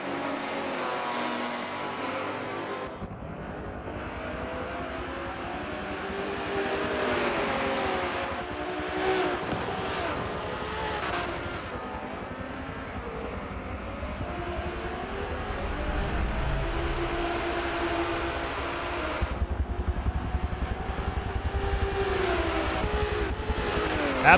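Race cars roaring through a round of the ETR Rising Sun Cup in a racing video game, with engines revving and droning steadily loud throughout, pitch rising and falling as the cars accelerate.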